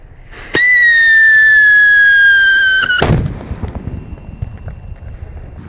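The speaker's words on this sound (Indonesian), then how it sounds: "kita nyalakan dan kita dengarkan seperti apa suaranya. Langsung kita nyalakan ya." Whistling Thunder Jumbo firecracker set off outdoors on loose sand: a piercing steady whistle for about two and a half seconds, ending in a single sharp bang followed by fading rumble and ambient noise.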